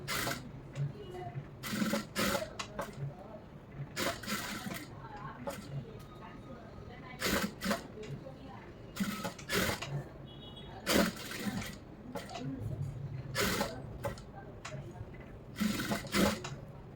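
A sewing machine stitches V-shaped tacks on a lining blouse in short bursts of rapid whirring with pauses between runs, fairly quiet and close.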